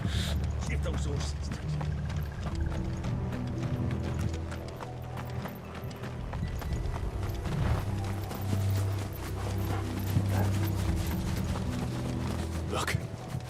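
Continuous clopping of horse hooves at a gallop in the video game Final Fantasy XVI, steady and rhythmic, under a low rumble and voices speaking.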